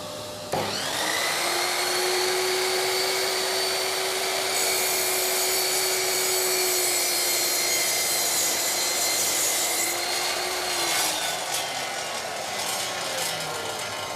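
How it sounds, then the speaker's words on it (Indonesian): A Bitec MSM1710 10-inch sliding miter saw crosscuts a teak beam: the motor whines up, then a steady, loud cutting drone with tonal hum holds for about ten seconds before winding down, with no talking. "Kita akan coba crosscut balok jati Belanda."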